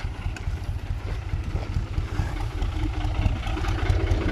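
A tractor engine idles nearby in a field, a steady low chugging rumble with regular pulsing knocks, fairly loud and without speech.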